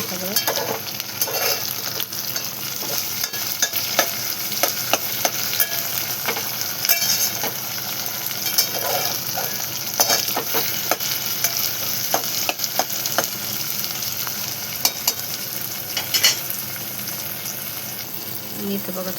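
Onion and tomato fry in a pan with salt while being stirred, giving a steady close sizzle broken by frequent scraping, clattering stirs throughout, with no one speaking.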